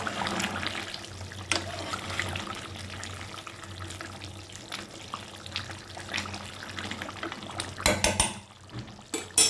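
Water poured into a pot of chicken stew, a steady close splashing stream that runs throughout, with a few clinks of the pot toward the end.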